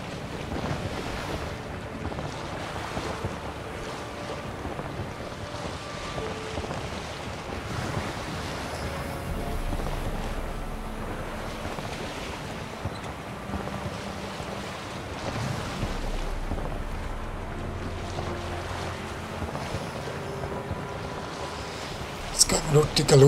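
A sailboat glides across open sea in The Witcher 3, with steady rushing waves, water and wind noise throughout, and a brief louder burst at the very end.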